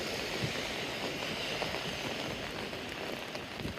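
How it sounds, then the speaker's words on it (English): Steady rain during a New York City storm patters densely on pavement and surfaces nearby, a constant fairly soft wash with no voices. "the rain is actually, it has picked up again"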